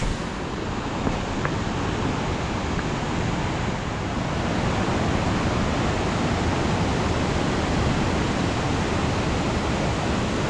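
A famous waterfall on the Madhyamaheshwar trek in Uttarakhand roars as a dense, steady broadband rush, loud and constant with no breaks.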